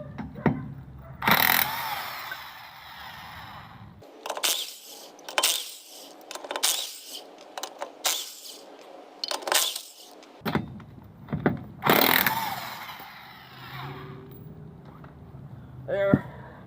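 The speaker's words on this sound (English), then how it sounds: "My electric impact gun." An electric impact gun removes 3/4-inch lug nuts from a car wheel in several loud, close bursts of whirring and hammering with short gaps between them.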